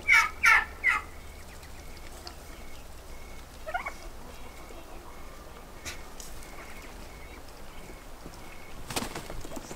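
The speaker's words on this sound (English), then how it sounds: "Well, it's just the mama turkeys are in there" Mother turkeys inside a coop give three quick, loud gobbles right at the start, close by. Fainter clucks and rustling follow over steady outdoor background noise.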